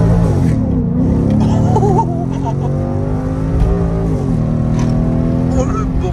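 A 2018 Ford Mustang GT driving and braking, its engine giving a steady, close, loud drone that holds through the whole stretch with slight shifts in pitch.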